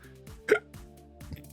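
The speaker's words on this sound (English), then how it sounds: "Oh, burping away here again." A man lets out a single short burp of swallowed tea, a brief throaty burst rising over a steady low background hum, with quieter murmurs before and after.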